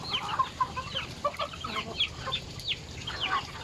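Several chickens cluck in short, scattered bursts, fairly close, with quiet gaps between calls, as they are fed palay.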